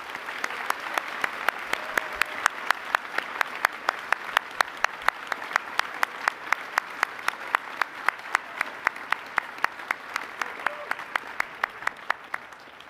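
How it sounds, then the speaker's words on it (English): Audience at an engineering capstone awards ceremony claps steadily for the teams, a dense, even wash of applause sustained throughout with sharp individual claps standing out near the front. "I want to first ask you all to come together and clap in congratulation to"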